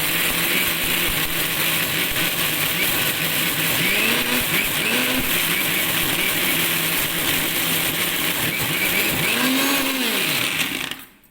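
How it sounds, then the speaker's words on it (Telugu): A mixer grinder runs steadily while grinding mutton keema with cashews, a loud, continuous whirring motor drone with rising and falling pitch sweeps as the contents churn, cutting off abruptly at the end. "బాగా ఈ కీమాని బాగా గ్రైండ్ చేసుకోవాలి."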